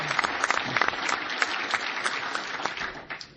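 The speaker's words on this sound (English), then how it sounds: "he deserves a huge round of applause" A crowd of Senate Democrats and guests applauds loudly in a meeting room for a senator, the clapping dense and steady for a few seconds before tapering off at the end.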